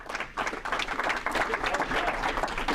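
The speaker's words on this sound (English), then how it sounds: "Let's have a round of applause for Joe" Audience applause at a Rotary club meeting, a steady close wash of many hands clapping for the whole stretch, with some voices mixed in.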